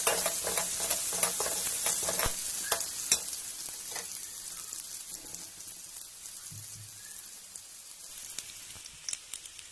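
Onions and curry leaves frying in a pan for Andhra-style jeedi pappu (cashew) upma, with a steady close sizzle, bursts of crackling, and occasional stirring clicks that soften and thin out toward the end.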